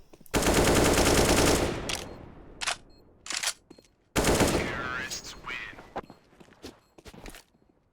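Loud bursts of automatic rifle fire and gunshots from a Counter-Strike match on the Dust 2 map, two long sustained volleys with shorter cracks and weapon clicks between them, close and dominant.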